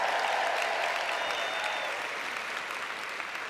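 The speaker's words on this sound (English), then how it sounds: "Let's do a clap for Project 25." A convention audience applauds, a dense, even wash of clapping that starts loud and slowly thins over a few seconds.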